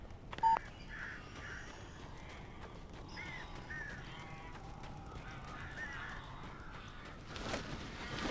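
Crows cawing in the game Alan Wake, several harsh calls repeating in a loose series, moderately faint against a quiet background, preceded by one brief sharp tone.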